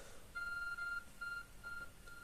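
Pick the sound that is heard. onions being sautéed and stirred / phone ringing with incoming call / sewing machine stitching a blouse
phone ringing with incoming call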